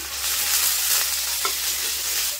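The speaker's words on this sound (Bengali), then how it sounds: "সব মশলা কিন্তু আমি খুব ভালোভাবে ভেজে নিয়েছি" Spice paste of ginger, garlic, onion, ground cumin and dried red chilli frying in a pan for a rohu fish curry, a loud continuous sizzle with a few scraping stirs.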